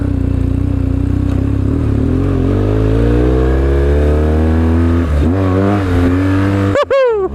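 A BMW R1150 motorcycle accelerates in first gear on a backcountry switchback, the engine note climbing steadily in pitch up close, then dropping as the throttle rolls off near the end.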